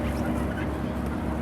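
Harsh, rapid guinea fowl calling in a continuous chatter, fairly close, with no talking.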